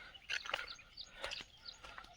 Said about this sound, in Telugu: మొత్తము పక్షులు రకరకాల పక్షులు ఉన్నాయన్నమాట చాలా అంటే చాలా బాగుంది అందులోనూ సౌండ్స్ చేస్తూ ఉన్నాయి